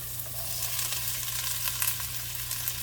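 Beetroot strips sauté with onions in a hot pan, giving a continuous close sizzle with soft stirring sounds running through it and no voices.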